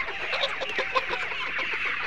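Layer hens about 74 days old on a farm on a cold morning, a flock clucking in soft overlapping calls, steady and moderately close.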